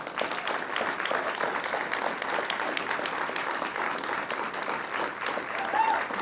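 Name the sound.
audience applause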